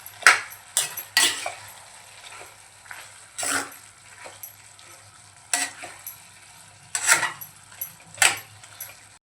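Finely chopped medium tomatoes are stirred into sizzling masala in a kadai for kadai chicken: a steady fry hiss under repeated, close scrapes and clinks of a spoon against the pan.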